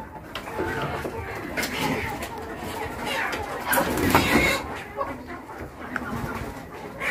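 Chickens in a poultry farm coop make scattered clucks and bird calls over a dense, steady background of farm noise, with a person talking in places.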